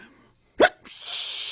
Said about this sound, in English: I just can't get rid of these hiccups.